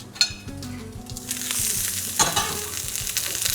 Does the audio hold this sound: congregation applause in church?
no